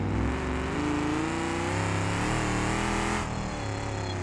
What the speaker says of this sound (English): It just revs forever.